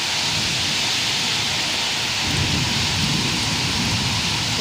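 Heavy rain pours steadily in a dense, unbroken hiss, growing a little heavier partway through, with no voices.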